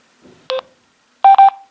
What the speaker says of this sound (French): Un bip se fait entendre sur le buddy et sur le smartphone